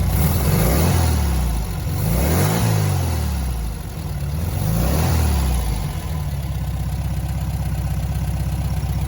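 A VW Beetle engine, freshly tuned at the carburettor, revs up and down in two swelling pulls before settling into a steady, rumbling idle, loud and close with no voices.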